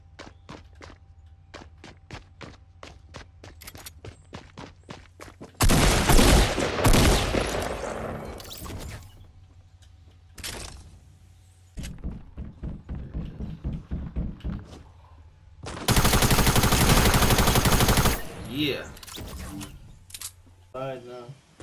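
Auto sniper rifle fire in Fortnite, bursts of rapid shots in two dense loud stretches between quieter runs of clicking footsteps, with players talking over parts of it.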